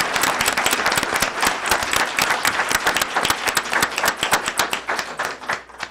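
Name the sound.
audience applause for District 3 candidates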